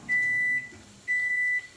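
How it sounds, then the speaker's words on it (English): A microwave oven gives two matching half-second beeps about a second apart, faint and clear over a quiet room. "Oh, you hear that? That's the sound of microwave."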